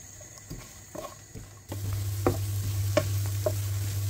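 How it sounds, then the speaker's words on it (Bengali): Large onions frying in a pan for a mushroom fry, a soft sizzle with a few spoon scrapes that jumps into a louder steady sizzle partway through, punctuated by stirring clinks, with no talk. "এখন পেঁয়াজটা আমি একটু টেনে নেব, অল্প করে, বেশিক্ষণ ভাজবো না।"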